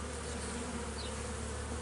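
Honey bees buzz in a dense, steady drone on a capped brood frame lifted from a hive, a continuous close swarm hum with no pauses.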